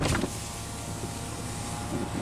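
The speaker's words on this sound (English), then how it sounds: "Now we'll go ahead and roll down the driver's window." A 2019 Dodge Grand Caravan GT driver's power window rolling down, a steady, even motor whir running close and alone after a brief louder onset.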